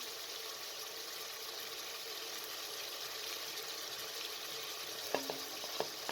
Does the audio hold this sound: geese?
no